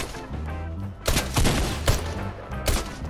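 Gunfire in Fortnite: several sharp bursts of shots crack out in quick succession over a busy backdrop of game music and sound effects, with no one talking.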